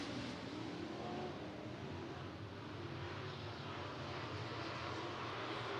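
Sport modified race cars roaring around the Clay County Fair Speedway dirt track, a dense, continuous wash of engine noise heard from a distance, steady and broad with no clear individual passes.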